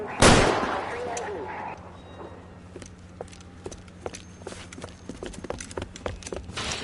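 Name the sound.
gunfire in LA Noire video game shootout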